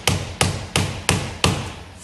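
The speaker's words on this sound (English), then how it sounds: "And then using the rubber hammer" A rubber hammer taps an AlloyGator alloy wheel rim protector into place on a car wheel, five evenly spaced, firm thuds about a third of a second apart, close and clear with no talking.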